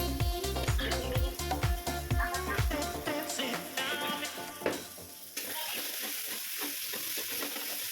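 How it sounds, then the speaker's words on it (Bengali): Spice paste with turmeric sizzles and is stirred in a hot pan in a home Bengali kitchen, rhythmic scraping strokes over a steady frying hiss that continues alone after the stirring stops. "মশলাটাকে ভাজছি হয়ে এসছে।"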